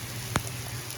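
Heavy rain pours down outdoors, a steady broadband hiss of drops on surfaces with one short sharp knock partway through, no speech.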